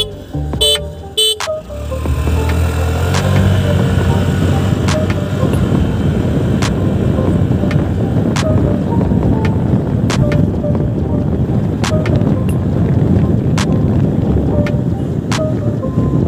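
A 2022 Honda Activa 125 scooter with a 125 cc engine carries two riders and accelerates to about 60 km/h. Steady engine and road noise sound close and loud under heavy wind buffeting, with a brief burst of handling noise at the start.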